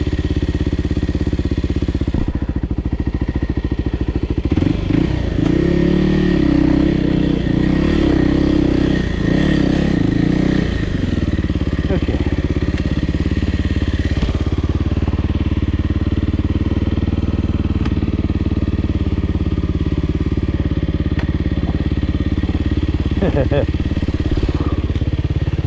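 A Kawasaki KLX300R dirt bike engine idles and rumbles nearby, with a louder revving stretch early on and clattering mechanical noise throughout, steady and close.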